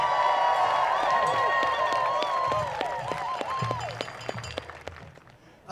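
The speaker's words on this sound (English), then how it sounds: "Let's have one more round of applause for our band" A crowd at an outdoor No Kings protest applauds a high school band, with scattered claps, whoops and cheering voices that ring out loudly at first and then thin and fade over several seconds.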